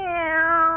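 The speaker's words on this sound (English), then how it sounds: "Now, you be a good kitty, Minerva." A pet cat gives a single clear, drawn-out meow that is close and fairly loud, heard in a homely breakfast scene with no one talking over it.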